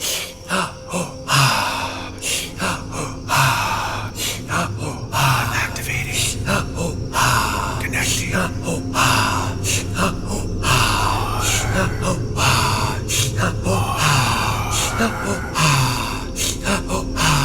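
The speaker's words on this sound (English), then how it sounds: "Continue breathing just a couple moments longer" Deep, rapid breathing during a guided breathing exercise: forceful inhales and exhales in a fast, steady rhythm close to the mic, continuing throughout with a voice speaking over it.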